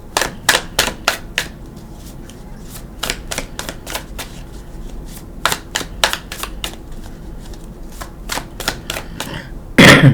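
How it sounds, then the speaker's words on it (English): Tarot cards riffled and snapped in quick bursts, sharp papery clicks with short pauses in between, close up and without talk. "I was going to take off the top, but I think I want to shuffle."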